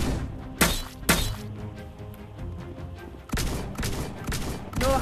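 Shotgun blasts in a scary video game ring out as two sharp, loud bangs early on, followed later by a burst of rapid cracking shots over a dark, rumbling game background.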